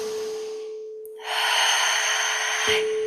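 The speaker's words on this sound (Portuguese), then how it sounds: "Vamos trazer aquela respiração," Deep breathing during a guided breathing exercise: a quiet draw of air, then a strong, close exhale that rushes for about a second and a half and stops sharply, with a steady tone held underneath.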